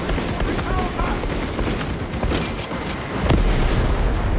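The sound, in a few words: weapon firing in video game Space Marine 2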